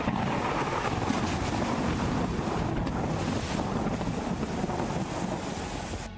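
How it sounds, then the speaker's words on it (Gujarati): Sea waves crash and roar steadily at Dwarka during heavy rain, mixed with heavy wind buffeting the microphone, a dense, loud wash of surf without pause. "દરિયામાં ઉછળતા મોજા"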